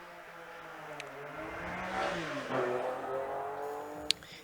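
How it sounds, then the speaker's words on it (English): A Porsche race car builds revs on the start line of a hill climb, engine rising and falling in pitch at moderate distance, with a sharp click near the end and no talk. "The Porsche on the start line."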